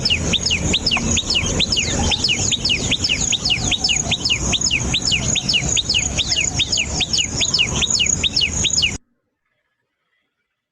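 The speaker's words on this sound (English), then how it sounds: "So that was the Tailorbird, a very small bird with a very loud call" A Tailorbird, a very small bird, calls loudly and insistently in a fast repeated series of sharp chirps that carries on without pause for about nine seconds before stopping abruptly.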